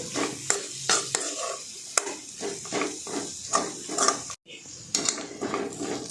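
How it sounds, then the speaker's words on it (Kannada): Grated coconut and raw mango with a little turmeric fry on a low flame, a close steady sizzle under frequent stirring scrapes and taps of a utensil against the pan, with one brief dropout. "ತೆಂಗಿನ ತುರಿ ಮಾವಿನಕಾಯಿ ಹಾಕಿದ್ಮೇಲೆ ಲೋ ಫ್ಲೇಮಲ್ಲಿ ಇಟ್ಕೊಂಡು ಫ್ರೈ ಮಾಡ್ಕೊಳ್ಬೇಕು"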